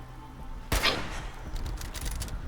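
A single loud, close gunshot goes off in Fallout 4, with a sharp crack followed by a rumbling tail over steady game ambience.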